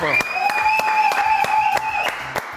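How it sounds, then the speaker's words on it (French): A studio audience applauds a Miss JJDA 2011 winner on a French television show, with a few distinct claps standing out over steady whistling and bright music tones. "je vous demande d'applaudir l'une des deux Miss JJDA 2011"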